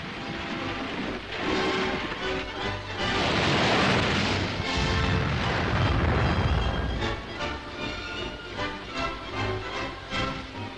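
Heavy underwater depth charge explosions aimed at a Soviet submarine boom and rumble in rolling bursts, with a churning roar between blasts, in 1941 wartime naval combat.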